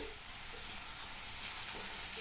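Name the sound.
sautéing tomato with onion in a pan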